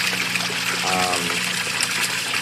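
A small waterfall trickles steadily into a backyard pond, giving a close, continuous splashing wash with a brief tonal hum partway through.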